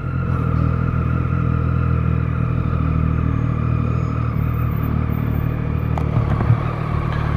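Engine of a Suzuki B-King naked motorcycle revving steadily up close, a loud continuous low rumble held for several seconds with a slight rise near the end.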